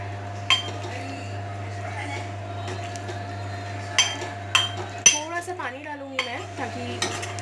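A spoon scrapes and clinks against a cooking pot while green gram (moong) is stirred into a gravy with coriander, giving scattered sharp metallic knocks over a steady low hum, then a looser run of scraping strokes.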